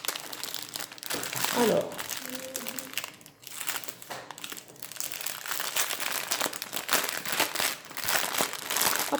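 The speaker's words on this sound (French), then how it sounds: "Alors j'ai 2 paquets de perles. Je vais en ouvrir un déjà." Plastic packet of diamond painting beads being opened: continuous crinkling and rustling of the wrapper close by, with someone speaking over it.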